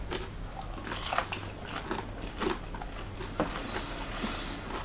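Bites and chewing of crispy baked tofu seasoned with dark soy sauce and apple cider vinegar, close crunchy crackles and soft mastication noises repeating over several seconds, fairly quiet with no talking.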